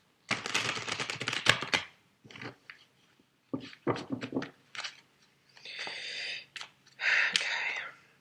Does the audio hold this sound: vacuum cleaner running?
no